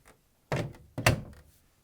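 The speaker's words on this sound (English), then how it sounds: "Now we're going to close the door." An LG/Kenmore front-load washing machine door swung shut after a new tub gasket is fitted, giving two close, solid thunks about half a second apart, the second louder as it latches, with quiet before and after.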